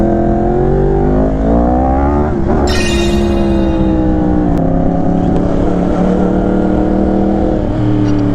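Ford Mustang engine on a Miami street, a loud steady rumble whose pitch climbs and settles as it revs, close and continuous with a sharp rise partway through and no talk.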